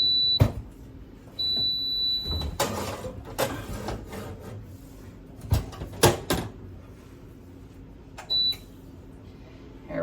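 A kitchen oven timer set for a baking tortilla chicken casserole sounds in short high beeps, one longer tone among them, mixed with clattering, knocks and handling noises of someone moving around the kitchen.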